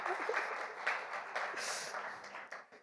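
Audience applause at a school alumni meet, a short burst of clapping that swells and then tapers off over a few seconds, with mixed claps at moderate distance.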